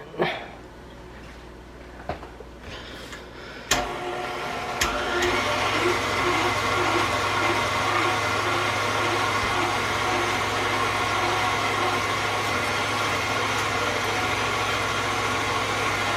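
A KitchenAid meat grinder attachment grinding beef starts with a few knocks and clatters, then settles into a loud, steady motor drone with a low hum that runs continuously to the end, with no talking over it.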